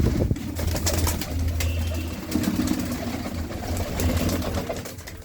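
Pigeons kept by a pigeon fancier, cooing in low, throaty repeated phrases close by, with rustling and a faint mechanical hum underneath.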